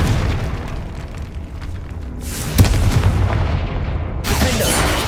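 A Confringo fire spell blasts in Hogwarts Legacy, a deep booming explosion with a sharp burst midway followed by a rumbling roar and crackling debris, loud and close with no talking over it.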